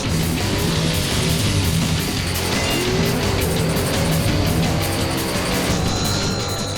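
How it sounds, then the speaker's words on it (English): Drag race cars at Bandimere Speedway, a Camaro among them, roaring loudly and continuously at full throttle with engine howl and tire noise throughout, no pauses. "In the second race, Jay McLean has a showdown with Bill Bernard"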